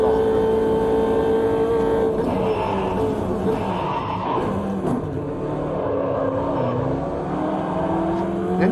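Race car engine droning steadily through a video game racing lap on an extended track, loud and continuous with shifting pitch as the car accelerates and brakes, tires occasionally squealing.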